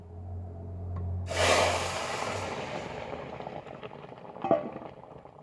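Tengra fish dropped into hot oil with burnt cumin, a loud burst of sizzling that swells suddenly, then settles into a steady crackling fry with a single clink partway through.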